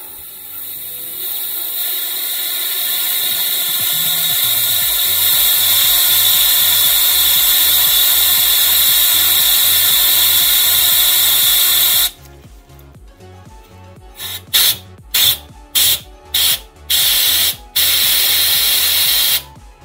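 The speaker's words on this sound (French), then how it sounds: "on va mettre un petit peu d'air comprimé ici au niveau de la jauge pour essayer d'évacuer le maximum" Compressed air blasts through the engine dipstick tube of a VW Golf 7 GTI 2.0 TSI during an oil change: a loud, continuous hissing rush for about eleven seconds, then a series of short, sharp bursts of air.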